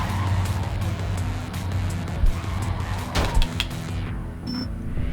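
Truck driving in the video game Clustertruck: a steady, loud game engine rumble with rolling road noise and a few brief louder bumps, carrying on alone without talk.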